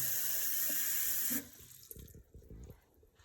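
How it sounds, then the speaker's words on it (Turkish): Tap water runs loudly into a pot for boiling eggs, then shuts off after about a second and a half, leaving soft clinks and knocks of the pot nearby. "Şimdi sonra suyumuzu dolduruyoruz. Yumurtalarımızı geçecek şekilde."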